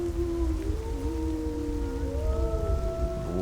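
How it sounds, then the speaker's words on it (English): Wolves howl in the distance over a low rumbling background, several long drawn-out tones rising and overlapping in a faint chorus with no talking. "wolves howling in the distance."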